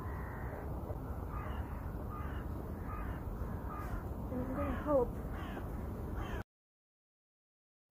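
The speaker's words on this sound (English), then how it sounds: "There are so many birds!" Several crows caw outdoors in a repeated series of harsh calls, some nearer and louder around the middle, over a steady wind-like background before the sound cuts off abruptly.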